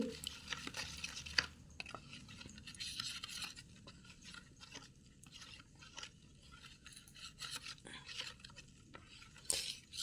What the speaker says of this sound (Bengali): এটা গরম জল দিলেই গুলে যায় একটু ধৈর্য সহকারে এটাকে ভালোভাবে মেশাতে হবে